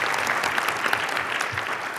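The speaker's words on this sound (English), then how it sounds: "let's give them another round of applause" Audience applause for speakers and panelists at a creative placemaking summit, a dense, steady round of clapping from a large crowd with no talk over it.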